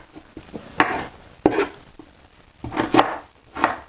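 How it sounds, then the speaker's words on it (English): Fresh ginger chopped with a knife on a board in a kitchen, giving a few close, sharp cuts and scraping strokes in an uneven rhythm with short gaps between them. "I'll just chop the ginger"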